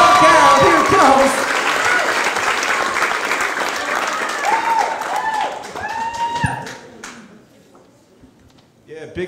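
A comedy club crowd applauds and cheers as a comedian takes the stage, loud dense clapping with whoops and shouts that fades over several seconds into scattered claps and voices.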